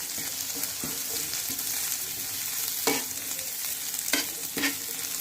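Onions frying in a pan for a paneer curry, a steady sizzle broken by several sharp scraping stirs of a spatula at uneven intervals, close and moderately loud with no talking.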